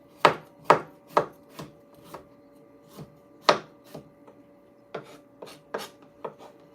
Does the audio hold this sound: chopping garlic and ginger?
yes